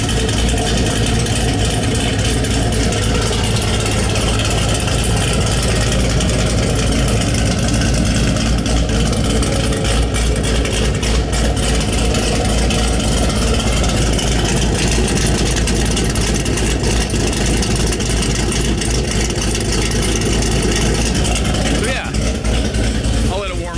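A Chevrolet ZL1 V8 fitted with a Nickey Stage 2 cam idles with a loud, choppy, loping rumble, steady and close throughout.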